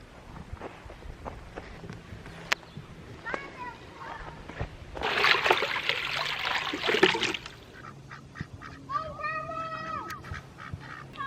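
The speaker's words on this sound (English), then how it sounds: "It's time to go up to the garden and check on these ducks." Ducks quack in a backyard garden, short nasal calls scattered throughout, with a burst of splashing or trickling water in the middle and a clear run of quacks near the end.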